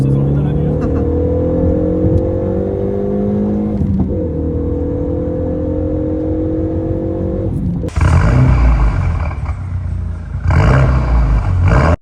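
Tuned Renault Megane 3 RS Cup turbo car at stage 1 with 315 hp, heard from inside: the engine drones and climbs through a gear, then roars loudly after a downshift as it accelerates hard, with a brief shift gap.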